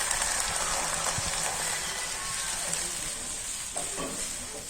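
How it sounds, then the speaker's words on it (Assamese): Cold dal poured into a hot frying pan of fried spices gives a steady, dense sizzle with watery bubbling, fairly loud and close throughout, with a brief clink of utensils partway. "এতিয়া দালিখিনি মই ঢালি দিছোঁ, ঠাণ্ডা দালিখিনি"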